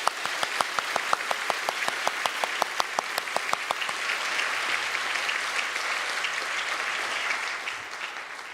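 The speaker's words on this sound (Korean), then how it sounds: "두 분을 위해서 박수와 격려가 있기 바랍니다." Audience applause at a Korean Presbyterian church's 42nd anniversary service, honoring two newly ratified church officers: sharp, distinct claps to start, then thickening into a steady, full ovation from a congregation that holds to the end without any talking.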